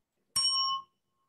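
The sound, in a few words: bell being struck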